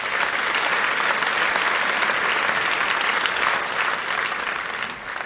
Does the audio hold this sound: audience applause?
yes